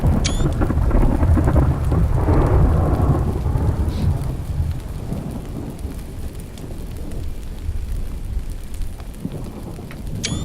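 A thunderstorm with a long rolling rumble of thunder over steady heavy rain, loud and enveloping, the thunder fading into a continuous downpour.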